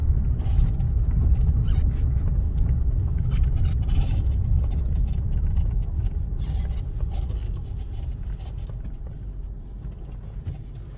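A Cadillac DTS on a test drive gives a steady, loud low rumble of engine and road noise, with occasional scrapes and rattles throughout and no talking.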